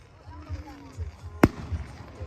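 A single loud Fourth of July firework bursts nearby with a sharp, booming crack partway through, amid excited and nervous chatter from people waiting for it.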